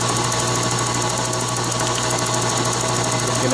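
A Prazi SD300 lathe's motor runs at its lowest speed through a two-pulley drive, giving a steady, loud mechanical hum with a whirring, slightly rattling texture that holds evenly throughout without pause.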